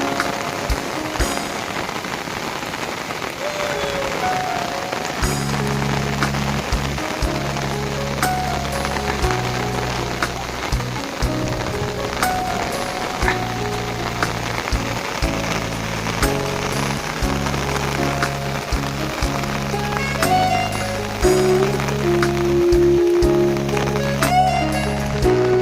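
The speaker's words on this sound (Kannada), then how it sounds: "ಈಗ ಮಳೆಯು ಎಲ್ಲ ಕಡೆಗೆ ಜೋರಾಗಿ ಸುರಿಯುತ್ತಿತ್ತು." Heavy rain pours steadily in a village where children swim, a loud continuous hiss of drops drumming on water and surfaces throughout, with no voices standing out.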